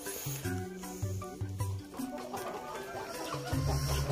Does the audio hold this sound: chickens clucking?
yes